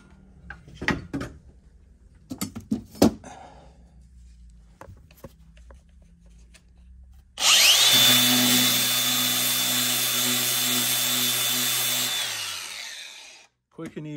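A 120-grit flap disc on an angle grinder grinding mill scale off a piece of metal. A few knocks and handling clatter come first, then a loud, steady grinding roar runs for about six seconds before it cuts off.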